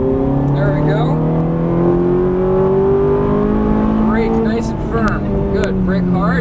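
Ferrari 430 V8 engine on a race track, revving up steadily and loud through acceleration with rising pitch, close and continuous, while an instructor talks over it.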